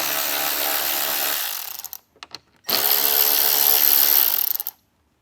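Power drill whirring out screws from trim on a 2024 Jeep Wrangler, two loud close bursts of motor whine separated by a brief pause with a few ratcheting clicks.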